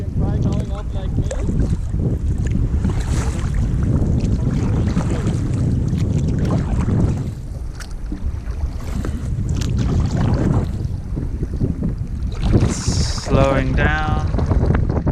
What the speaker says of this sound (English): Now we have the wind like this